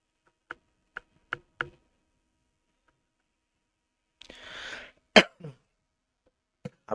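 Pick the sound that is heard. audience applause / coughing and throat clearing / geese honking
coughing and throat clearing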